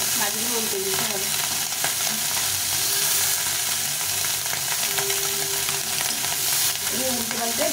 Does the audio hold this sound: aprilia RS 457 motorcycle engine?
no